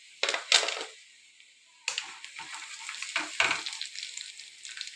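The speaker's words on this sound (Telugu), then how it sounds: "ఇలా ఎర్రగా ఫ్రై అయిన తర్వాత చికెన్ పకోడీ రెడీ అయిపోయినట్టే." Chicken pakodi frying in hot oil, with crackling sizzle bursts, a couple of sharp stirring clinks at the start and a steady close-up bubbling hiss, no voices.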